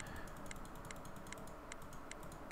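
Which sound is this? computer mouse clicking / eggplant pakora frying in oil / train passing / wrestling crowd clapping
computer mouse clicking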